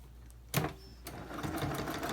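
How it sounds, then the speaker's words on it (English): Sewing machine back stitching on a fabric face mask, a brief sharp click followed by a short burst of close motor hum and needle chatter. "sewing, back stitching."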